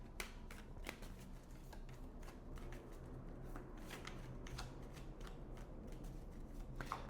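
Tarot cards are shuffled in quick, crisp riffling flicks and soft slaps, close but quiet, repeating steadily for several seconds with no talking.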